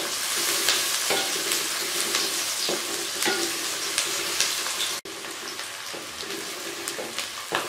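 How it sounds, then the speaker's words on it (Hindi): Onion-like ingredients sizzle steadily in a hot pan for a home-style chicken curry, with a loud continuous crackle broken by periodic scraping stirs and a brief dropout near the end. "इसको मैंने इतना फ्राई करना है कि लाइट पिंक हो जाए।"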